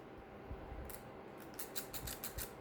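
A pair of pinking scissors being handled at a desk: a few quiet metallic snips and clicks, one early and a quick cluster toward the end, faint against a soft background hiss.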